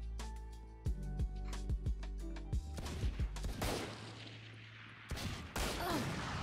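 Rapid gunfire from Valorant rounds that land a headshot: a string of sharp, loud shots in quick succession, each a hard crack over a busy game mix, followed by a burst of noisy impact and effects.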